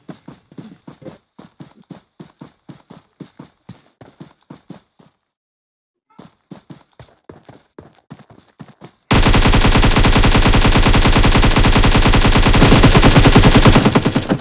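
Gunfire in PUBG starts as a series of distant, evenly spaced single shots, pauses, resumes, then gives way to a loud, sustained near-continuous automatic burst.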